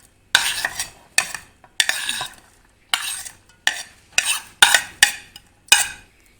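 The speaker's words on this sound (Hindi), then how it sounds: "इन सारी चीज़ों को हम अच्छी तरह से मिक्स करेंगे।" Keema being mixed by hand or spoon with salt, turmeric, lemon juice, chopped onion and green chili, giving eight or so distinct bursts of wet stirring and scraping in a bowl, each a second or less with short pauses between.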